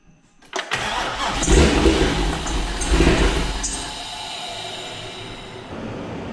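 A BPE 408 engine swapped into a C5 cranks with low fuel pressure: a loud starter churn catches into a rough, uneven rumble for a few seconds, then settles into a steadier lower drone, close up.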